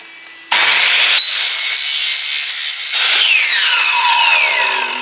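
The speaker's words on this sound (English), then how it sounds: "Same for the wet wall panels, we'll just be cutting them with the circular saw." A circular saw bites into plastic wet wall panels for a van shower, spinning up abruptly and whining loudly through a sustained cut before winding down with a falling pitch, close and alone with no talk.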